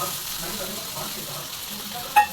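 Onion and tomato fry in a pan for a homemade pasta sauce, giving a steady, even sizzle with a brief utensil clink near the end.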